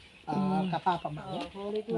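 Chickens in a coop cluck and squawk close by in a loud burst of several overlapping calls, with harmonic clucks following one another over about two seconds.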